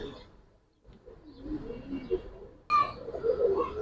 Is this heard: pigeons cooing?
yes